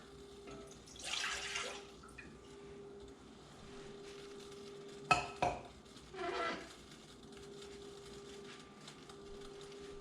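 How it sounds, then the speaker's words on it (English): Short bursts of a cup and a half of water pouring and splashing into a pan, with a couple of metallic clinks, against a quiet background hum. "So I'm starting with a cup and a half of water."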